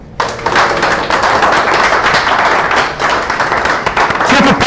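An audience at a Python programming talk in New York breaks into sustained applause, a steady wash of many hands clapping close and loud for several seconds with no pause.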